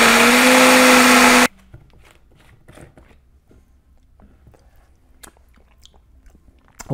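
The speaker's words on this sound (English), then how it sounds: "Back on the blender." A kitchen blender blending pizza ingredients with fresh basil whirs loudly and steadily for about a second and a half, then cuts off abruptly, leaving quiet handling sounds.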